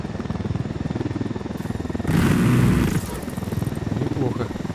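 A helicopter in the video game Ghost Recon Wildlands lifts off, its steady engine and rotor drone swelling to a louder, rushing surge midway before settling back, with someone talking over it.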